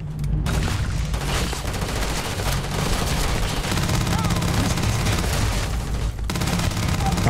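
Rapid, continuous video-game gunfire of foam bullets in Starfield, a dense fusillade of close, loud shots and impacts rolling on for several seconds with barely a pause.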